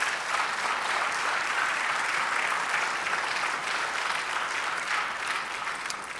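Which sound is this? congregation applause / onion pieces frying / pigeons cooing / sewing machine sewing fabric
congregation applause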